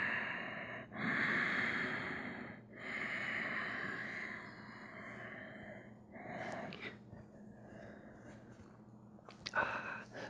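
Slow, deep breaths during a yoga forward fold, close and quiet: long airy inhales and exhales in a calm rhythm, a few soft sniffs near the end, with no talking.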